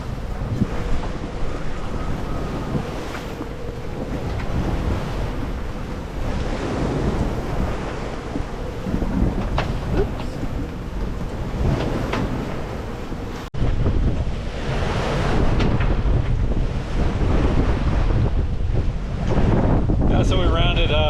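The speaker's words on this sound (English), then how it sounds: "the winds and the swell has really picked up" Strong wind buffets a sailboat without motors off Cape Race, Newfoundland, in a winter storm, with a constant loud roar of wind noise on the microphone and heavy ocean swell washing around the hull.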